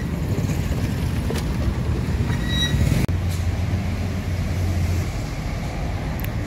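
Background ambience fills the area around the ticket counter at a Sipirok Nauli bus terminal. A steady rumble and hiss run throughout, with a few faint squeals and one sharp thump midway.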